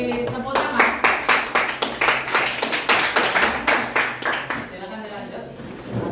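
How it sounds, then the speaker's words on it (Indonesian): A small group claps hands together in a classroom presentation, a loud run of quick, fairly even claps lasting several seconds before fading out, with voices talking over it. "beri tepuk tangan"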